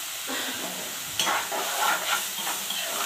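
Sliced onions frying with salt in a pan, a steady close sizzle with hiss and occasional stirring scrapes swelling through, no talk.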